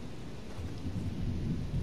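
Storm thunder and rain ambience in the video game Fortnite, a low continuous rumble with rainy hiss that swells slightly, steady and moderately loud with no voices.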